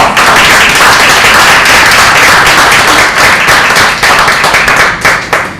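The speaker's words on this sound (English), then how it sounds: "we should all give a big round of applause" An audience at a talk applauds, close and loud, with dense clapping that holds steady and then thins toward the end.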